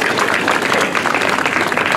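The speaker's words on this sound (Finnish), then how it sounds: "Annetaan oikein raikuvat aplodit Orimattilan Luhtikylälle." A crowd at an outdoor village market in Lahti harbour applauds a prize-winning village, dense steady clapping filling the whole moment at close range.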